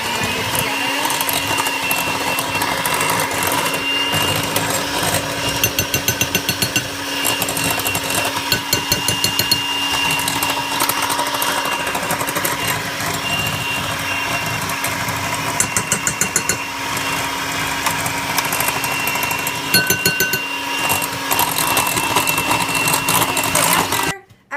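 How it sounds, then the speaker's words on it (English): An electric mixer beating pineapple upside-down cake batter, a loud, steady motor whir with rattling pulses running for a long stretch before cutting off at the end. "I'm going to beat this again. Blend it together."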